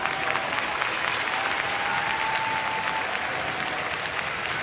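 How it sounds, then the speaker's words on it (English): Stadium crowd at the para athletics world championships in Kobe, a steady wash of cheering and applause heard from within the stands, sustained and fairly even throughout with no clear speech. "Here's a cheer coming."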